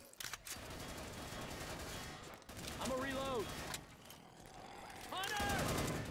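Sustained bursts of video game gunfire aimed at the player chatter loudly throughout, broken by a sharp gap, with shouted speech over the shooting.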